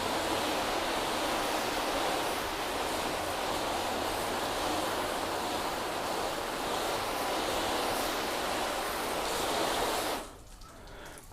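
Water from a hose rinsing a car body panel during a sealant test, a steady loud hiss of spray held close for about ten seconds before cutting off abruptly.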